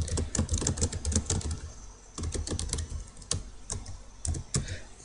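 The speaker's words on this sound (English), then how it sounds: "type your message." Keys clatter on a computer keyboard while an email message is typed, quick close clicks in bursts with short pauses between, moderately quiet and with no voice over it.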